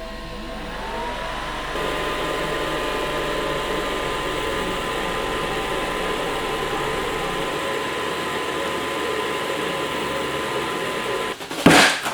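FDM and resin 3D printers run together, loaded with gray standard polymer resin: a steady, even mechanical hum and whir with faint tonal motor whine, holding level throughout before a brief louder clunk near the end.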